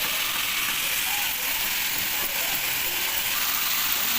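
Mixed ingredients for a Bengali lote fish jhuro sautéing together in a pan, a steady close hiss and crackle of frying with faint scraping, continuous throughout with no talking.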